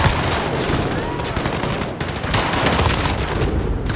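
Dense, continuous automatic gunfire from a Call of Duty Modern Warfare match, with loud overlapping bursts and booms running without a break, close and harsh.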